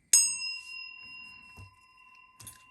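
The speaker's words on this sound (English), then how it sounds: "I'm going to go ahead and ring the bell for additional good juju here" A small bell is struck once, giving a sharp bright ding that rings out and slowly fades, followed by a couple of faint knocks and a light clink near the end.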